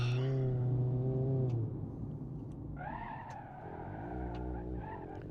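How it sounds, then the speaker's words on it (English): A Bruckell LeGran SE Convertible in BeamNG.drive skids through a handbrake spin: a loud tire squeal at first, then a wavering, rising engine whine as the car slides and recovers, with no talk. "using the handbrake to spin the car around and throw it does actually kind of make it a little fun"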